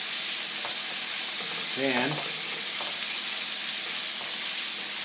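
A Marsala chicken sauce sizzles loudly and steadily in a pan as it is stirred, with a brief spoken word from a man partway through over the constant frying hiss.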